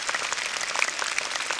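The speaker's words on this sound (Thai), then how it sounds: "ก็เสียงปรบมือดังๆยาวๆส่งถึงที่นะครับทั้ง4คณะเลยนะครับ" An audience applauds for four performing troupes at a staged event: dense, steady clapping from many hands, moderately loud, with no talk over it.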